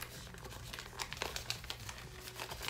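Crinkly plastic surprise bag from an L.O.L. Surprise O.M.G. Neonlicious doll being opened close up, a continuous rustling and crackling with frequent sharp crinkles throughout.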